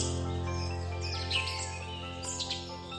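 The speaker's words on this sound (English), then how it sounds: "This bird is recognizable by its shrill call." White-crested helmetshrike giving shrill, high-pitched calls from tree foliage: a few brief, sharp bursts rising over a steady low background hum, moderately near and not especially loud.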